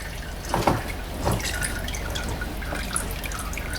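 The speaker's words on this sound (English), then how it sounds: "So some oil will drop from that filter." Oil dripping from the removed oil filter of a 2007 Lexus RX400h, a few soft drips near the start standing out briefly over a steady low background hum.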